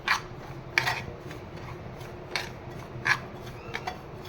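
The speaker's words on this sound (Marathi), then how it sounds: "मंद गॅसवर आपल्याला हा रवा छानपैकी असा भाजायचा आहे" Semolina roasting in a pan over low heat while being stirred makes a soft, dry rasping with faint scrapes and occasional light clicks of the spoon, close and quiet.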